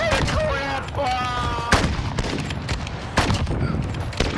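Rapid gunfire in Modern Warfare multiplayer, sharp cracking bursts of shots in quick succession, loud and close, mixed with other game sounds and some vocal noise.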